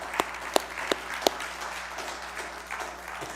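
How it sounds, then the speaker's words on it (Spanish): Scattered claps from a church congregation, a few sharp distinct hand claps followed by softer sparse applause in a reverberant room, fairly faint. "Un aplauso."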